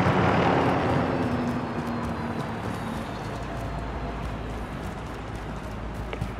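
A helicopter in Call of Duty: Modern Warfare gives off a loud, steady roar with a low rumbling hum that eases slightly after the first second and holds, with no voices.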